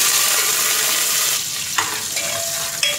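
Small onions, curry leaves and coriander sauté in hot oil with mustard seeds for pongal kuzhambu, making a dense sizzle with a few sharp stirring scrapes and ladle clicks near the end.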